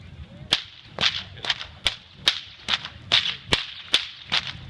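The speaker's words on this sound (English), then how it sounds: "Longer whips will crack at a slower speed," Longer whips cracking at a whip-cracking show in Walgett, about ten sharp, loud cracks in a steady, slow rhythm with faint crowd noise beneath.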